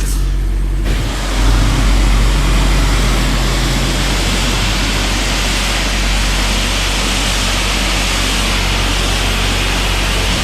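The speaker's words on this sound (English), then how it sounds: "Let's test out the high pressure soap." High-pressure soap sprayer at a car wash bay blasting a loud, steady hiss of spray that kicks in after a short moment and holds continuously throughout.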